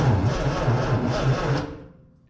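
A Triumph TR6 engine cranks slowly on a weak battery, a rhythmic chugging starter turnover of about eight pulses that stops and fades out.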